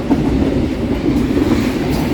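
A train passes close and loud, its heavy rolling rumble carrying a rhythmic clatter of wheels over rail joints, with no voices heard.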